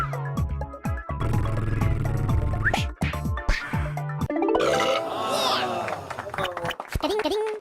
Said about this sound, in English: we have farting and burping